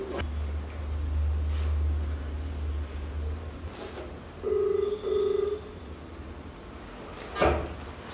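During an outgoing phone call, two short electronic ring tones sound close together at moderate level. Scattered clicks and handling knocks and a low hum fill the quiet room.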